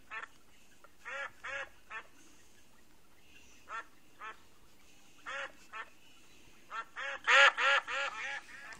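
Bird quacking in the Rubby Bird mobile game as it is rubbed, a sequence of short duck-like quacks spaced irregularly, growing louder and faster into a tight burst near the end, over a faint background.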